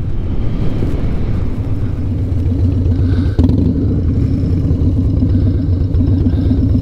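Steady loud rumble of a Harley-Davidson motorcycle being ridden, a continuous engine drone mixed with wind and road noise, with one brief knock partway through.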